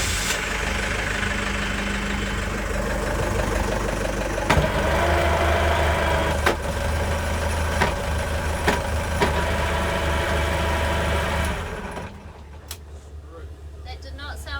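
Sailboat engine cranked and running steadily with a low rumble while the gears are tested, with a few knocks and clunks, then cutting out near the end, with talk over it.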